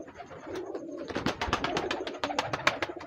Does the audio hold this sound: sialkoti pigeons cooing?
yes